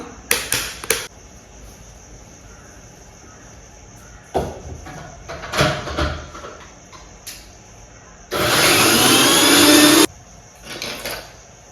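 An electric mixer grinder whirs loudly for a couple of seconds while grinding soaked batter without water, preceded by short clattering bursts and knocks of the jar being handled.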